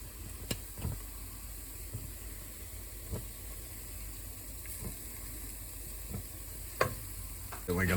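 Garlic and smoked paprika frying in a pan, a quiet steady sizzle broken by a handful of sharp scrapes and knocks as a utensil stirs the mixture.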